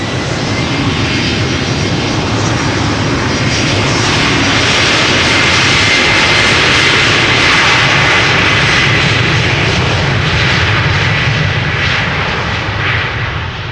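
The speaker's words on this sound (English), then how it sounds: "Embraer 190 long range, let's go!" Embraer 190 jet taking off at Amsterdam Schiphol Airport, heard up close: a loud, steady roar of jet engines that swells and holds without break, with no talk over it.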